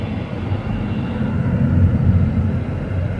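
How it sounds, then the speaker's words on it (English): Airplanes on the runway at Indianapolis International Airport give off a steady, loud, low engine rumble that swells slightly midway, with no speech. "And there's some planes out there on the runway"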